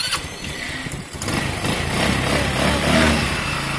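Lexmoto Diablo motorcycle engine with the choke on running close by, a steady loud mechanical drone that dips briefly then builds and rises in pitch as it revs.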